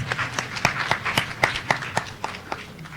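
Scattered claps ring out at a live-streamed primary school spelling bee, a sparse, uneven round of hands with distinct sharp slaps spaced across the moment, fairly close and moderately loud.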